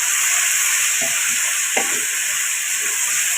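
Arvi (taro root) frying dry in a pan without gravy, a loud continuous close sizzle with a few scraping stirs of a spoon.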